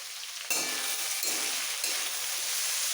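Grated ginger, slit green chillies and chopped onion frying together in a pan; a bright, close sizzle bursts in suddenly and carries on steadily, with faint stirring scrapes and no speech.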